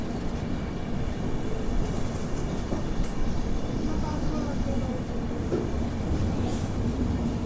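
The Godavari SF Express runs between Visakhapatnam and Hyderabad, heard from on board as a steady rumbling roar of rolling wheels and carriage noise that continues throughout with no clear breaks.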